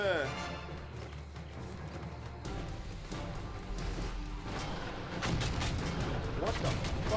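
A gun firing in the G.I. Joe: Rise of Cobra video game, with booming shots and rapid blasts amid game noise and music, while someone talks over the action.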